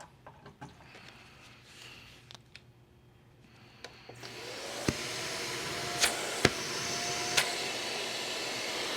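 A SEBO E3 upright vacuum cleaner, just serviced with its hose reattached, switches on about halfway through after a few faint clicks and handling noises, then settles into a steady, full motor roar with a couple of sharp clicks.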